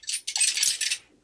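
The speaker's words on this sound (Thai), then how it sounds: "เป็นเสียงเครื่องมือแล้วกันพวกเครื่องมือช่างนะฮะ" Metal hand tools clattering and jangling inside a plastic toolbox, a short burst of rattling, close and bright, with a brief clink at the end.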